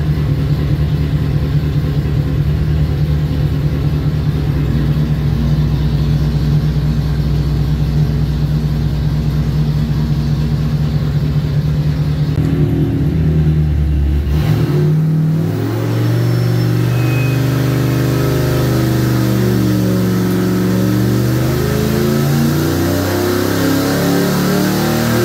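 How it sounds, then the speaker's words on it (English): A Ford 5.0 V8 with a Trick Flow top end and Holley EFI runs on a dyno, droning loud and steady, then revving with rising and falling pitch. "So we're gonna fire up the dyno, get the Holley EFI running,"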